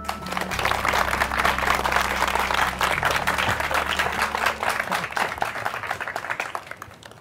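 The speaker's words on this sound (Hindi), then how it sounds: "आप सबकी भरपूर तालियों में मैडम सबिया बेगम" Audience applause for Madam Sabia Begum at an orphanage event, a dense steady clapping that fills the room at moderate loudness for several seconds over a low hum, without talk.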